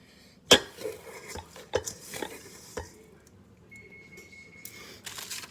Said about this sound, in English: take 2 cups of this mixture, and you're gonna put it in your pan.